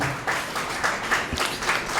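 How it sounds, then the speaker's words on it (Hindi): A convocation audience at a university regional centre ceremony in Bhopal applauds, a lively, fairly steady round of many hands clapping at moderate volume with individual claps popping out. "ऐसे समारोह के लिए एक बार जोरदार तालियां बजा दीजिए मेरे लिए।"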